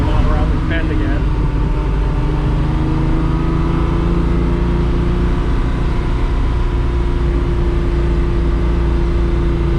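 A vintage Ferrari 330 America cruising on an open road, its engine giving a steady, loud in-cabin drone with a constant low hum and road noise throughout.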